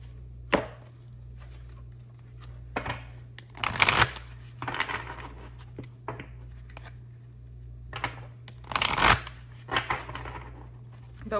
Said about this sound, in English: I'm going to grab one of these crystal cards.